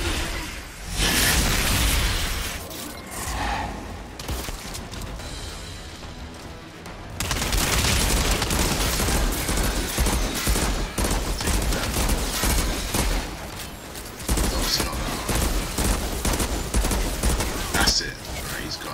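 Sustained bursts of gunfire and booming blasts in the video game Outriders, loud and close, with a short lull midway before the shooting resumes, and someone talking over the action.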